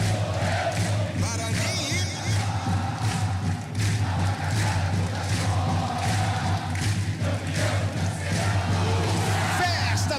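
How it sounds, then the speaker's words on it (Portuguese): Guarani football supporters roar continuously in the stands at Brinco de Ouro stadium, a dense, loud crowd din with chanting voices and occasional whoops that never lets up. "Vamos ouvir a torcida, quero ouvir o torcedor."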